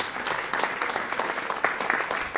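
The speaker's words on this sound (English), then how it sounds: "would you please give them a big round of applause?" Applause from an audience at a jazz evening, a fairly quiet spread of clapping with some sharper individual claps, continuing evenly and a little distant.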